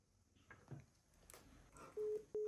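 Telephone busy tone after the other party hangs up mid-call, two loud steady beeps near the end following quieter background noise.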